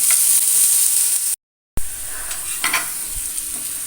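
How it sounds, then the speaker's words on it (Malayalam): Sliced onions sizzle steadily in a hot pan with stirring scrapes, loud and close, broken by a brief total silence before the frying resumes. "സവാള നന്നായിട്ട് ഒന്ന് ഫ്രൈ ആവണം"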